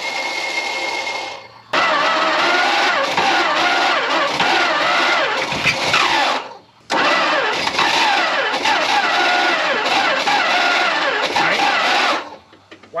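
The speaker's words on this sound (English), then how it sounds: "Wow, that starter sounds terrible." Tired starter motor cranking the engine of a barn-find Dodge Monaco parked for 34 years, grinding loudly in two long sustained bursts separated by a brief pause, with no speech over it.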